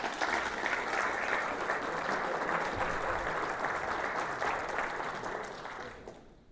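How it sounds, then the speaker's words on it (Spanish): Sustained applause from a lecture audience, loud and dense clapping that stays steady for several seconds before fading out at the end. "se llama el doctor Jesús Martínez Garnelo, a quien les pido que le den un fuerte aplauso."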